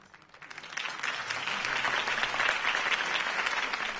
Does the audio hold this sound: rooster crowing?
no